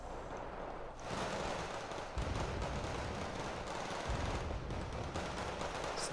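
Rifle fire crackles in a real-time strategy battle in Wargame Red Dragon as Canadian infantry engage enemy troops, a dense, steady wash of distant gunfire bursts lasting throughout with no clear pauses.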